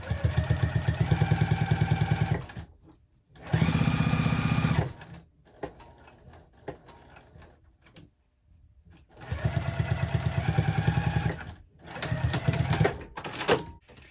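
A sewing machine stitches along the bottom of a clutch in several loud bursts of fast, rhythmic needle clatter, broken by quiet gaps with small handling clicks.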